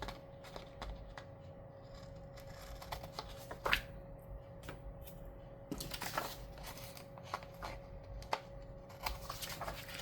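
Scissors snip and trim paper in a quiet room, with a few short, close cuts scattered among soft rustling and handling noises.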